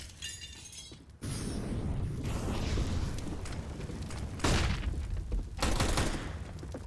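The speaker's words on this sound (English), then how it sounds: "Gives a free Tech 9 tap to Ruben" Gunfire from Counter-Strike on the Vertigo map during an esports match, with a dense rattling burst of shots and crashing impacts after a quieter opening second, swelling again twice, loud and continuous under faint game ambience.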